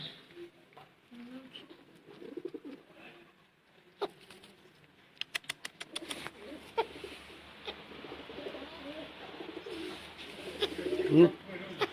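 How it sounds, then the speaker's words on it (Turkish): Soft throaty pigeon coos with faint rustling and pattering, close by, while people speak quietly in the background; the bird seems to have something wrong in its throat. "Bu niye böyle ses çıkarıyor boğazından Emir?"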